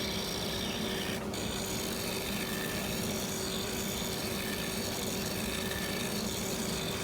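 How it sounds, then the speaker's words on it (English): A negative rake scraper works a black limba bowl spinning on a woodturning lathe, giving a continuous close rasping scrape over the steady hum of the machine. "I'm going to move on to using my negative rake scraper to clean up some tool marks"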